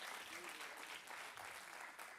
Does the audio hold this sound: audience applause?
yes